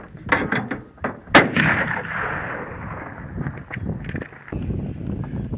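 Repeated gunshots ring out at an indoor shooting gallery in Salt Lake City, several sharp close reports with one especially loud blast, spaced irregularly over a steady room din with occasional background voices.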